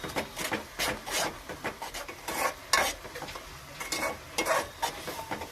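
Maggi noodles with eggs and chili powder being stirred in a pan, a steady series of close scraping, rubbing strokes over a soft sizzle, with no talking.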